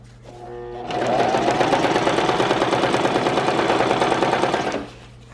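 Sewing machine stitching elastic into a cloth diaper runs in a steady, close, loud rapid chatter for about four seconds, starting after a brief quiet lead-in and stopping cleanly.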